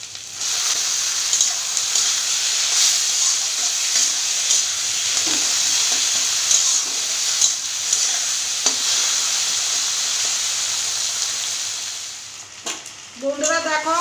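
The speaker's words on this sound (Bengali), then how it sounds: "বন্ধুরা দেখো কত সুন্দর মাছের তেলগুলো ভাজা হয়ে গেছে আর পেঁয়াজগুলো একদম ভেজে গেছে।" Fish fat and onions frying in a pan for a home-style Bengali telpui dish, a steady loud sizzle and hiss with occasional stirring scrapes, ending with a few clinks near the close.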